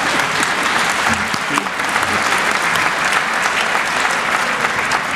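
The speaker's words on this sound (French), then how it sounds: "Fethi Ben Slama est très sport, il applaudit François Burgat" Sustained, dense applause from an audience at a French academic conference, loud and even for the whole stretch with no voices over it.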